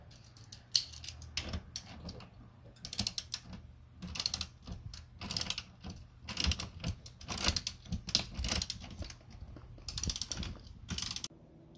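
A ratchet clicks in repeated quick bursts while tightening seat rail hardware in a 2023 Mazda MX-5 ND, close and crisp, with short pauses between sets of strokes.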